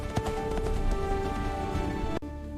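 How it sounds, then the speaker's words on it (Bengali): Galloping horse hooves in an animated fairy tale, a fast run of close, loud clip-clop beats that cuts off sharply near the end. "ঘোড়াটি ঝড়ের বেগে পাহাড়ের দিকে ছুটল।"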